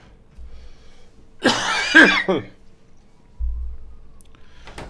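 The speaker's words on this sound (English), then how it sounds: "I'm just absolutely disgusting and coughing right now" A person coughs in a close, harsh burst of several quick coughs that ends with throat clearing, with quiet room noise before and after.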